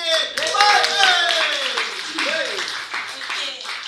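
An audience at a business talk claps in a short burst of scattered applause lasting a few seconds, mixed with a voice speaking over it.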